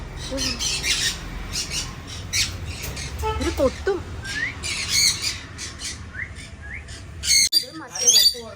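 Harsh squawks and chirps from caged birds repeat throughout, with a louder burst of squawking near the end over a busy background.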